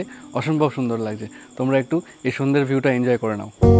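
Crickets chirp steadily through an evening at a resort, a thin continuous trill running beneath nearly constant close talking.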